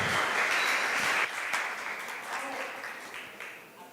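A live audience applauds for a performer of Stuck in the Middle, loud and steady at first, then slowly thinning and fading toward the end.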